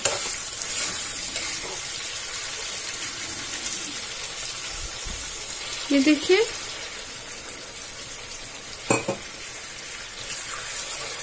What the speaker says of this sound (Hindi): चिकन हमारा भुन चुका है। अब इसमें हम पानी ऐड करेंगे।